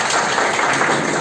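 Dense, steady applause from a gathered crowd at a school meeting welcoming a newly formed school management committee, filling the whole short moment at a constant level.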